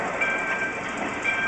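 A freight train rolling with a steady metallic rumble and rattle of cars, plus faint high whining tones, continuous and fairly close.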